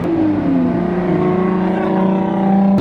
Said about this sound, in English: I love how cammed this car sounds.